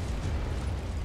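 A tank shell exploding in War Thunder, a heavy low rumbling boom that fills the whole moment at steady, loud level with no voices.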